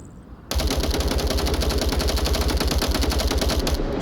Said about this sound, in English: Strayjack putting shots onto his position